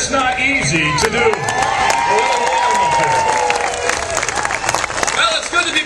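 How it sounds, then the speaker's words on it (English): A Tea Party rally crowd applauds loudly, with sustained clapping mixed with cheers and whoops, voices calling out over the dense, continuous clatter of hands. "Give a round of applause."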